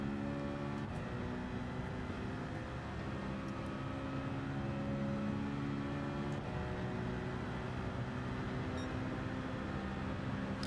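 A steady, droning race car engine in the video game Gran Turismo 7 hums continuously at constant loudness, with harmonic tones holding fairly level throughout and no voices.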